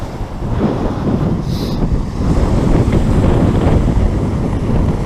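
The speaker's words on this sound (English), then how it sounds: "I haven't missed this east coast wind" Strong east coast wind buffets the microphone on a beach at Great Yarmouth during a fishing session, a steady, loud roar that fills the whole clip with a hint of surf beneath and no talking.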